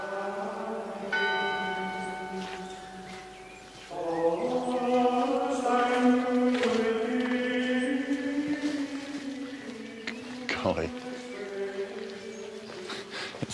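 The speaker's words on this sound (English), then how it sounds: "You feel like you can hear the sound of the monks and the chiming of the bells." Church bells chime from the bell tower of Fountains Abbey, a ringing series of overlapping tones that swell and sustain and are heard alone at moderate loudness.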